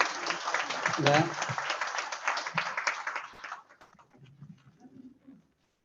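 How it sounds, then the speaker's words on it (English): A community meeting audience claps for working group members, a dense burst of applause that fades out after a few seconds, with a voice speaking over it and quieter talk once the clapping stops. "just applaud these guys"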